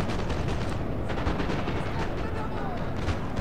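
Musket volleys crackle continuously across a battlefield in Napoleon: Total War, a dense, fairly distant roll of gunfire with a low rumble beneath, under a voice commentating.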